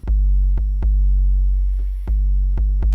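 Deep booming 808 bass notes with sharp clicky attacks on each hit, in an uneven rhythmic pattern with long sustained low tails.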